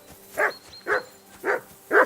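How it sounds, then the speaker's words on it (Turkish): A dog barks four times at an even pace in Kingdom Come: Deliverance II video game, close and fairly loud, with a faint background tone between barks. "Burada bizim köpek var."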